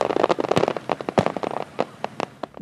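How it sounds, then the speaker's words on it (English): Rapid crackling Fourth of July fireworks pop in irregular bursts, sharp sizzling snaps overlapping at close range with no talking. "Fireworks like these are a 4th of July staple"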